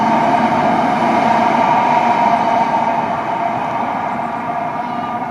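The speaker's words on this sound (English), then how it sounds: "if you wait long enough, you will hear the trains passing below." A train passing below through the ventilation tunnel of the Argyll Line railway under a Glasgow street, heard as a steady, loud, broad rumble and roar that does not change, with no talk.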